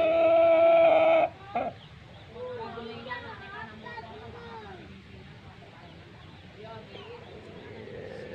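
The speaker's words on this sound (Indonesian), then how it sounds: "Ini jenis ayam merah ya." A Pelung rooster crows loudly and briefly at the start, then clucks and softer bird calls continue under a person talking.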